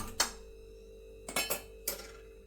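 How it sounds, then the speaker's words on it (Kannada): A pan set down on a kitchen stove for tempering kadale usli, giving three separate metallic clanks spread over a couple of seconds, close and fairly quiet with no voices. "ಇವಾಗ ಸ್ಟವ್ ಮೇಲೆ ಪಾನ್ ಇಟ್ಟು ಸ್ಟವ್ ಅಂಟಿಸ್ತಾ ಇದ್ದೀನಿ"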